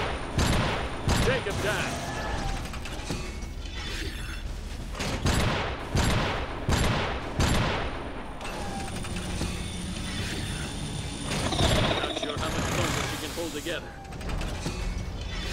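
Repeated bursts of gunfire in the mech combat game Iron Brigade crack out in clusters across the clip, mixed with mechanical clanks and whirring, while a voice talks over the din.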